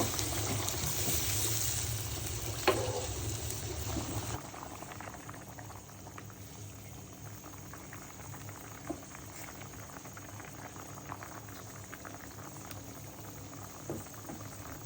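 Hilsa fish curry with potato and pointed gourd simmers in a thin broth, a steady bubbling boil with small pops and patters, louder at first then settling to a quieter continuous burble; nobody talks.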